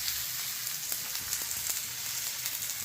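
A bottle gourd dhapata flatbread sizzles quietly on a hot tava, a soft steady frying crackle with scattered small pops and no talking.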